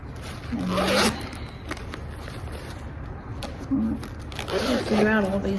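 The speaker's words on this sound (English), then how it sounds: "Figure out all these zippers." Zippers on a bag's compartments are pulled open and shut in a few quick, raspy strokes, close up, with quieter handling and rustling between the bursts.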